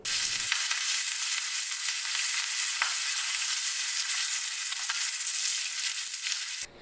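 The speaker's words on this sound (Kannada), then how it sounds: "ಸ್ವಲ್ಪ ಹಿಂಗನ್ನು ಹಾಕಿ ಸಾಸಿವೆ ಚಿಟಪಟ ಅನ್ನೋವರೆಗೂ ಹುರ್ಕೋಬೇಕು" Mustard seeds, cumin and dried chillies splutter with hing in hot oil for a Mangalore-style sambar tempering. A loud, steady sizzle with scattered pops and crackles runs throughout and cuts off abruptly at the end, with no talking.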